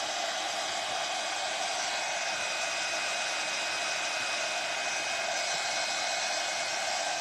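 Heat gun blowing hot air onto WoodUBend wood trims on an open-sided wood box, a steady loud fan-driven hiss that runs unbroken throughout, close up and alone without voices.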